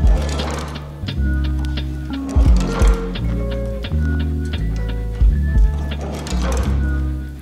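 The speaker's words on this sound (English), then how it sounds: "our Chinese leather patcher only has one needle, so we're gonna have to do this two times to make up that parallel stitch line" A Chinese leather patcher sewing machine stitching in rapid bursts, its rhythmic mechanical chatter starting and stopping several times at close range with short pauses between runs, no talking.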